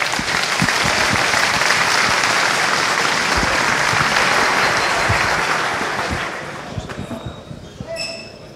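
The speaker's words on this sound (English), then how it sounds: "Please give him a round of applause." A conference audience applauds a speaker with steady, loud, dense clapping that continues for several seconds before tapering off toward the end.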